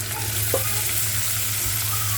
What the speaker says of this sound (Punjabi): ਜੀਰਾ ਪਾਤਾ